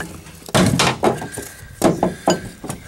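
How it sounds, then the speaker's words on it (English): Brass hammer beating the U-joint cap out of a 1997 Dodge Ram 1500 front axle, struck against a wood block: a series of sharp, close metallic strikes in uneven rhythm, about seven blows with short decays. "I'm using a brass hammer."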